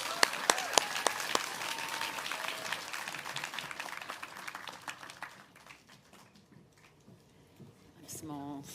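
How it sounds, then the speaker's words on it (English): Audience applause at a children's books awards ceremony in Dublin, a dense patter of clapping that builds then thins out, with voices talking over and after it. "Give her a big round of applause."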